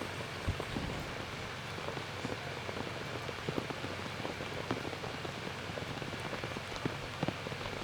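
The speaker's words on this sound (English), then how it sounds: "It's raining, it's wet," Steady rain falling at an outdoor Memorial Day ceremony, a dense patter of drops on surfaces with scattered louder taps, heard alone without voices.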